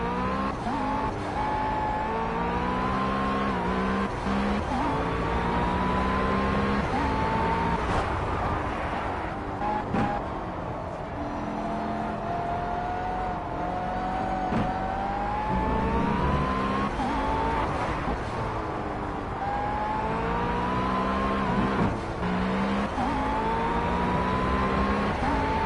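A race car in the Project CARS video game drives and accelerates around a track, its engine note rising and falling through repeated gear changes, with brief tire squeal, loud and continuous throughout.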